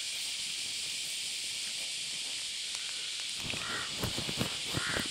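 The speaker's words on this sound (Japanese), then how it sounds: "結構カラスいるんで" Crows cawing at Sukuji Beach on Ishigaki Island, a calm, shallow bay; a steady hiss fills the first part, then several loud, close caws repeat in an uneven burst near the end.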